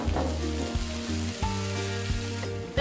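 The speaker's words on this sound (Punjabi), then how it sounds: "1 ਮਿੰਟ ਟਮਾਟਰ ਭੁੰਨਣ ਤੋਂ ਬਾਅਦ ਆਪਾਂ ਵਿੱਚ ਹਰੀ ਮਿਰਚ ਪਾ ਦੇਵਾਂਗੇ" Tomatoes and green chilies frying in a pan for a dhaba-style dal tadka, a loud, steady close sizzle with a faint low hum underneath and no talk.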